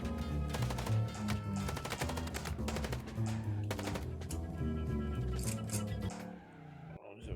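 Gunfire in the noir adventure game Chicken Police: Paint it Red, with dense rapid shots and bursts layered over music and engine rumble, continuing for several seconds before cutting off abruptly.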